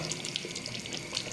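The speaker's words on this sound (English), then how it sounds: "So now it's boiling." Chicken curry boils in a pot on high flame, giving a steady bubbling and hissing simmer that continues evenly throughout with no voices.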